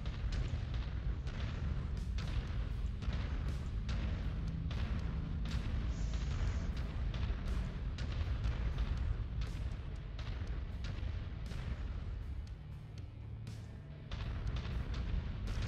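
A turret is blown apart in a mech combat video game, amid a dense run of repeated booming explosions and weapon fire that thuds steadily throughout, with no one talking.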